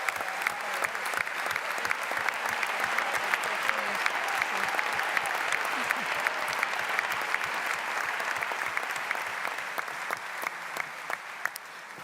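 An audience at a 15th PSC party congress in Catalonia gives sustained, dense applause, with many hands clapping at once in an even, loud roar that holds for the whole stretch.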